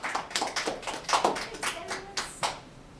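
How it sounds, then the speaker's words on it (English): Scattered, uneven clapping from the audience at a university anthropology alumni lecture, a handful of distinct hand claps that thin out toward the end. "Let's have a round of applause again for Lauren"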